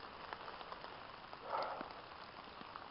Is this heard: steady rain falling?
yes